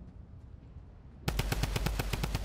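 A weapon in the video game Fortnite fires a fast, evenly spaced automatic burst of about a dozen loud shots, starting abruptly after a quiet lead-in.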